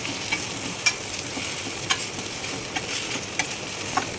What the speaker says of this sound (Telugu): ఇప్పుడు ఆనియన్ పచ్చిమిర్చి వేసుకుంటున్నాను. కలుపుకోవాలండి బాగా.